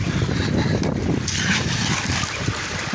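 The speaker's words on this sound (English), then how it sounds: "It's actually quite breezy" Steady wind gusting outdoors in wet weather, a broad rushing noise buffeting the microphone throughout, with a watery wash underneath.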